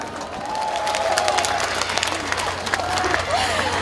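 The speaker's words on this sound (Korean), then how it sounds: "큰 박수로 환영해 주시기 바랍니다" An outdoor festival crowd claps and cheers to welcome a trot singer onto the stage, a dense, steady wash of applause with a faint tonal line from the sound system running through it.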